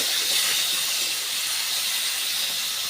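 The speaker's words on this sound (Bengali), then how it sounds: "এই তেলের মধ্যেই চিংড়ি মাছগুলো দিয়ে দিলাম।" Prawns are frying in hot oil, giving a loud, steady, close hiss of sizzling with no pauses and no voices.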